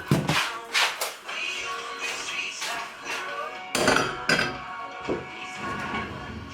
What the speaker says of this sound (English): Wash the bowl up.